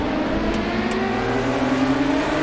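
A high-revving V10 racing engine in RaceRoom drones steadily at close range, a sustained mechanical roar with rising harmonic tones and no speech.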